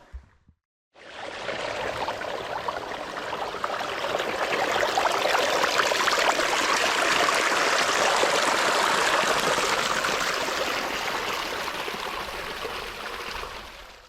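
A little stream and a small waterfall in the woods of Smithfield, Rhode Island, give a steady, close rushing and trickling of water that starts abruptly and holds at an even level throughout.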